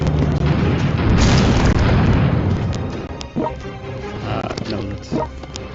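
Artillery fire in the strategy game World Conqueror 4, loud booming blasts rolling at the start, followed by sharper scattered pops, with a voice talking over parts of it.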